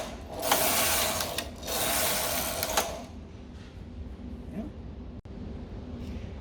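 A hand-operated domestic knitting machine runs its carriage across rows of needles in two loud, rasping mechanical sweeps, followed by quieter clicks and a sharp snap as the action settles.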